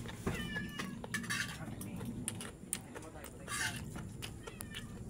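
A cat meows a couple of times indoors amid dish and cutlery clinks, with people talking nearby.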